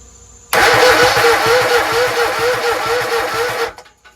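A Kohler EFI V-Twin engine on a Toro Z-Master 5000 zero-turn mower cranks steadily after a rebuild, with a loud, rhythmic starter churn that runs for about three seconds and then stops without the engine catching.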